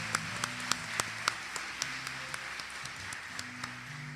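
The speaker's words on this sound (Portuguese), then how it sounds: "Você pode aplaudir o Senhor," Scattered, sparse clapping from a church congregation, a few hands tapping irregularly rather than full applause, faint against a low room hum.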